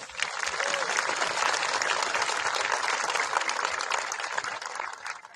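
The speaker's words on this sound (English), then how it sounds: "Round of applause, please." Steady, dense applause from a large audience at a high school graduation ceremony, lasting throughout at a full, even level with no talk over it.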